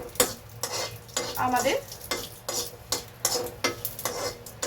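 Potato chutney is stirred in a pan with a rhythmic series of scraping strokes about every half second over a soft sizzle, and a voice speaks briefly in the middle.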